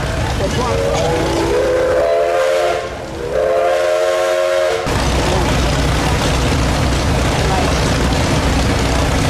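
A steam engine's whistle sounds in two long blasts over a chugging, hissing engine that keeps running steadily afterward, loud and close, at a steam power show in Sycamore, Illinois.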